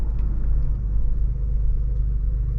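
A second-generation Toyota 4Runner on a short test drive, heard from inside as a steady low engine and road rumble, constant and moderately loud, with no talking.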